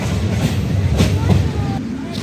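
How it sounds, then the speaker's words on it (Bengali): Burimari Express passenger train running on a new double line, a loud close rumble with low rolling wheel noise and rail rattle filling the whole moment. "বিমানবন্দর রেল স্টেশন থেকে আমাদের ট্রেনটি ছেড়ে গেল"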